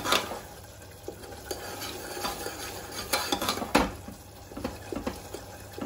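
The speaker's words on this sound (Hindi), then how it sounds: "ये प्याज देखिए गल गई है, अब इसको थोड़ा हम भून लेंगे।" Softened onions fry in a pan for egg curry, with a spoon scraping and clinking against the metal in uneven strokes over a soft, continuous sizzle.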